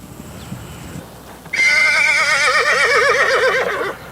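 A thoroughbred mare or foal on a horse farm lets out one long, loud, close whinny with a wavering, quavering pitch, preceded by quiet background rustle.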